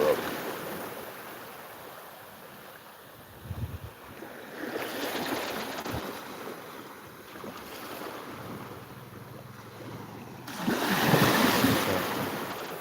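Ocean waves breaking on a Thai beach at sunrise, the water calm and glassy: soft surging washes swell up twice over a steady hiss, with wind buffeting the microphone throughout.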